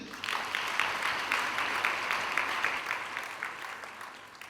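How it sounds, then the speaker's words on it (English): Sustained applause from a crowd at a university first-year student orientation, a steady wash of many hands clapping throughout, fairly even in loudness. "A round of applause, please."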